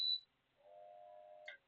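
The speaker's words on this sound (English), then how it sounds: "when it makes that noise, beep, it means it's turned on" A home appliance with hot and cold settings, switched on, gives a short, high beep, then after a pause a lower, steady electronic tone that ends in a brief chirp, quiet and alone.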